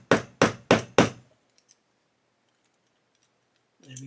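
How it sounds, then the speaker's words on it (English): Four quick, evenly spaced light hammer taps seat a part on a 1/8-scale Pocher Porsche 917 model kit, crisp and close, followed by silence and then a brief voice. "I'm just going to very lightly, tap this on"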